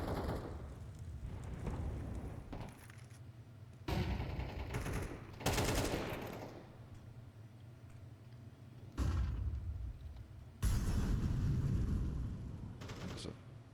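Gunfire in a Counter-Strike match, several bursts of sharp rapid shots at varying distances, some loud and close, separated by quieter stretches of game ambience and faint commentary.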